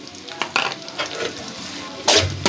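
Spring onion and ginger stirred in a hot pan, loud sizzling with repeated scraping strokes of a spoon, close and busy, with a brief murmur of a voice underneath.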